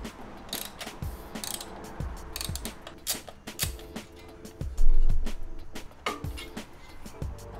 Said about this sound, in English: now we're gonna remove these two screws